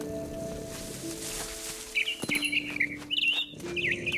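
Video game bird chirping in What Remains of Edith Finch, several quick high tweets in short bursts over a soft ambient drone, fairly close and clear.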